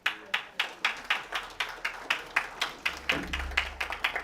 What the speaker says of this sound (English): Let's show our appreciation with a big round of applause. Keep the applause coming.